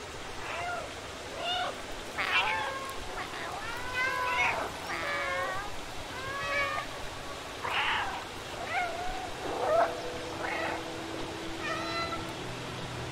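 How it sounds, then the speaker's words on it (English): Cat meowing in the video game Stray, with a run of clear, close meows coming one after another across the whole stretch over a quiet background. "Can your cat hear the meows?"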